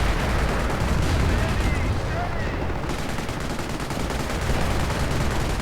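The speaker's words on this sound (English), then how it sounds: "Well, that's mortar fire actually" Mortar fire in a WWII strategy game battle with T-34 and Panther tanks, a dense continuous roar of blasts and shots blending into one thick barrage, loud and sustained, with a commentator speaking over it.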